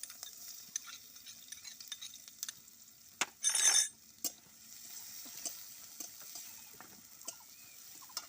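Chopped onions go into a pan of oil just used for frying fish: a brief, loud burst of sizzle, then quiet stirring with faint clinks and ticks of a utensil against the pan.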